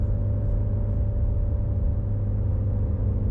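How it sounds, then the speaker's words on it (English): Low, steady rumble of a Ford Shelby GT350R's naturally aspirated flat-plane-crank V8, idling or cruising in its quiet mode, heard from inside the car with a constant droning hum and no talk. "the type of sound this car makes with the flat plane crank, naturally aspirated V8"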